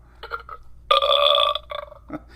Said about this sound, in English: Then of course I hit the burp one.